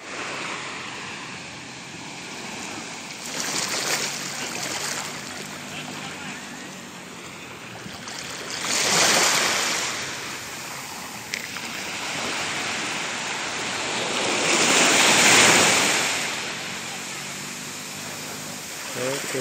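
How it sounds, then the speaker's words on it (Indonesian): Ocean waves roll in at Senggigi beach, swelling and receding in slow surges, three big washes several seconds apart, loud and close, with wind noise over the shore and no clear voices. "kita lagi di pantai Senggigi"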